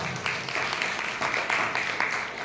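A crowd applauds steadily for a couple of seconds, a dense wash of many hands clapping at moderate volume with no voices over it.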